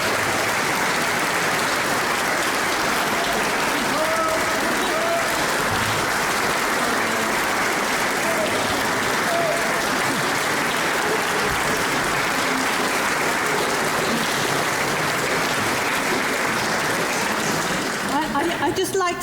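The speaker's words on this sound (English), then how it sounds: "I'd like to ask you to give a big round of applause for Katy" A musical audience gives a long, loud round of applause for Katy, steady dense clapping filling the room, tapering slightly at the very end.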